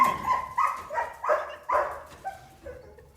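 A dog chasing a fleeing young man gives a string of sharp barks and yelps, several loud bursts in uneven rhythm that trail off toward the end.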